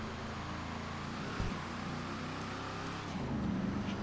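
Car engine in GTA V Online, a steady droning hum of a game vehicle that swells slightly near the end, loud and continuous with no talking.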